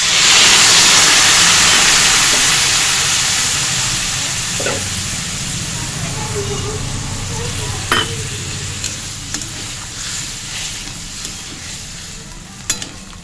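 Water poured into a hot pan of cluster beans and potatoes bursts into a loud hissing sizzle that gradually subsides into quieter bubbling with occasional clinks.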